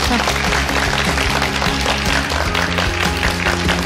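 Audience applause for a singer at a New Year special lecture event, a loud dense wash of clapping mixed with steady low musical tones running underneath for the full stretch.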